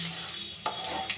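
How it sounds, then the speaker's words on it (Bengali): Two crushed cardamom pods and six or seven peppercorns fry in hot oil as a spice tempering for a chicken and cauliflower curry, giving a short, soft, close sizzle with light crackles. "ভালো করে ফোড়নটা একটু আমি ভেজে নেব।"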